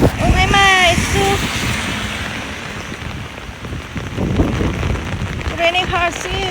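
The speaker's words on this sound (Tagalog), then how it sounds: "Uwi na kami at ang sobrang lakas pa rin ng ulan." Heavy rain pours down hard enough to flood the ground, a dense continuous hiss with some wind buffeting the microphone, while someone talks over it at the start and end.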